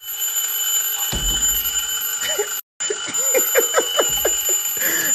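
A doorbell rung over and over in the middle of the night, its bright electronic ringing repeating steadily with a brief cutout and some noise in the room behind it.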